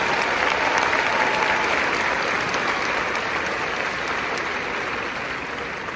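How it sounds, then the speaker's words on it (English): Audience applause at a high school graduation ceremony for the class of 2026, a large crowd clapping steadily in a hall, fading slightly toward the end. "Let's give them a round of applause,"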